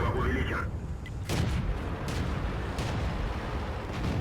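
A tank cannon round bouncing off armor in World of Tanks: a sharp loud report near the start, then a heavy rumbling battle din of engines and distant gunfire continuing throughout.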